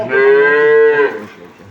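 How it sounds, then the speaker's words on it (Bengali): An improved-breed dairy cow gives one long, loud, close moo of about a second, which then fades into quieter background noise. "গরু এইভাবে গরু পিছন সাইডটা দেখছেন?"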